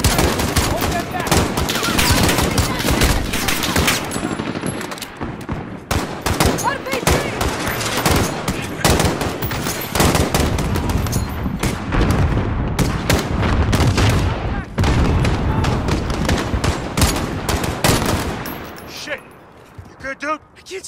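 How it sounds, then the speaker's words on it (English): Sustained bursts of automatic gunfire and scattered explosions fill a Call of Duty: Modern Warfare battle at an embassy, dense and loud throughout, with shouted voices mixed in. "Can't see where they're shooting from!"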